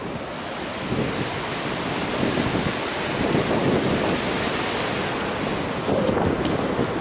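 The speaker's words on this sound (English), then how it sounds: "I'm right next to one of the most incredible waterfalls," Nevada Falls in Yosemite roars as a steady, loud broadband rush of falling water from close by, continuous throughout with no talking.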